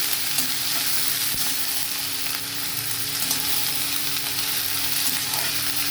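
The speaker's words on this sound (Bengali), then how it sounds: "আলু আর বাঁধাকপি আমি একসাথে দিয়ে দিলাম ভালো করে নাড়াবো এরকম করে" Potatoes and cabbage fry together in hot oil, producing a dense, close, unbroken sizzle as they are stirred around the pan.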